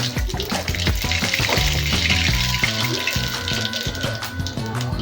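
Mustard seeds fry in hot oil in a pan while goat blood fry is being cooked. A close, continuous sizzle is dotted with sharp popping crackles, and a faint tonal layer runs underneath.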